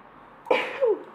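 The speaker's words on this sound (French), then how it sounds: "oh pardon, je vais éternuer, je crois" A woman sneezes once, a short sharp burst followed by a brief voiced tail, loud and close against a quiet room.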